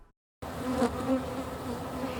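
Bees buzzing steadily in a Fresno County farming area, a continuous close insect drone that starts after a brief silence and holds on without any voices.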